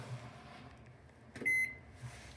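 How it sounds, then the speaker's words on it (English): Hotel room microwave oven humming as it runs, then a loud steady electronic beep lasting about a quarter second, with low room hum before and after. "A microwave, which is nice."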